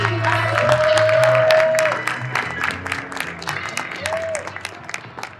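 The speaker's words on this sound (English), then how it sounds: "Give a round of applause for both gentlemen, please." Round of applause from a convention audience at NBA Con 2023 welcoming two guests on stage; loud clapping and some cheering that swells, then thins into scattered claps, with a brief tone and voices underneath.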